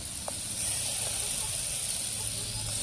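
Food frying in a pan while Tamil home cooking, with a ginger-garlic and onion spice paste nearby: a steady close hiss and sizzle throughout, fairly faint, with no talk.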